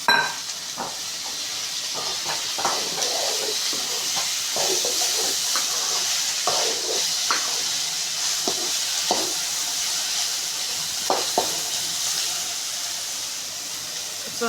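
Okra pieces stirred and sautéed in a kadai while cooking a Tamil vendakkai poriyal, giving a steady broadband sizzle with intermittent scraping spoon strokes throughout, close and alone.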